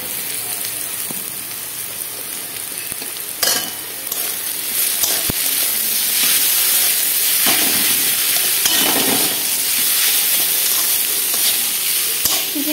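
Snake gourd frying with chopped onions tipped into the pan, a loud continuous sizzle close by, punctuated by sharp spatula knocks and scraping stirs against the pan, with no voices.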